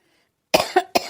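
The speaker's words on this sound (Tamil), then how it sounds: "இந்த இருமல் பாடா படுத்துது போ" An old woman in a Tamil cartoon gives three short, dry, harsh coughs in quick succession. They come close and loud after a silent start, with no other sound around them.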